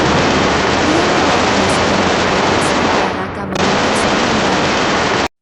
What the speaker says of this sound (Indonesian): Meriam bergemuruh, mengguncang tanah saat perlawanan berjuang mati-matian untuk menahan tembok.